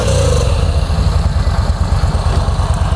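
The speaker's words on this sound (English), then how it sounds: "Factory exhaust. It's a 2-into-1 exhaust. Sounds good. It's pretty quiet." Yamaha V Star 950 motorcycle with its factory 2-into-1 exhaust runs steadily at idle nearby, a low, even, fairly quiet engine rumble with a gentle pulsing throb throughout and no talk.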